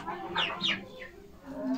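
A couple of young Rhode Island Red and Australorp chickens cluck and squawk close by in short, rising bursts, followed by a softer low call.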